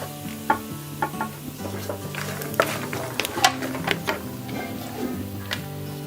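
Mustard seeds, cumin and peanuts sizzle in hot oil, with sharp crackles and pops scattered over a steady fry while a low musical tone plays underneath.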